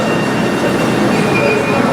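Northern Class 331 electric train running at speed, a loud, close rumble with rail noise and faint high squeals, heard from inside the carriage.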